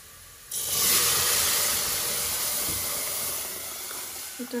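Lentils tipped into a sizzling tempering of oil, onion, garlic and dried chili give a sudden loud hiss that holds steady and slowly eases, with no talking.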